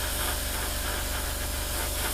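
An airbrush sprays paint onto a 1/48 scale Hasegawa Harrier GR7 model kit on a cold day, giving a steady, unbroken airy hiss at close range with no talking.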